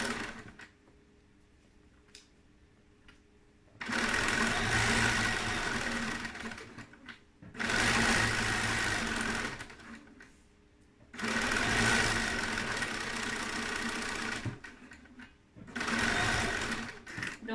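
A sewing machine stitching fabric runs in four loud, steady bursts of several seconds each, separated by short quieter pauses with small handling clicks.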